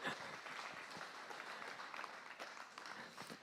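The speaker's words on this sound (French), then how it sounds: "On peut applaudir Claire pour ça" A small audience claps for a participant named Claire, a faint, steady patter of applause lasting a few seconds, heard at a distance with no speech over it.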